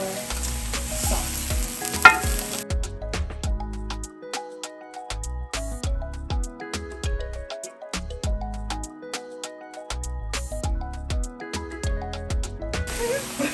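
Garlic and taco meat sizzling in a pan while being stirred, with scraping strokes and clicks from the utensil against the pan in an uneven rhythm over a low frying hiss, close by.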